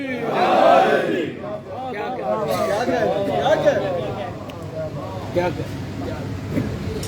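During a majlis, a crowd answers with the religious slogan Nara-e-Haidari, a loud wave of massed voices that swells and then trails into scattered shouts and murmuring, with one voice rising over the throng.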